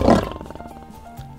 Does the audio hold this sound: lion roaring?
yes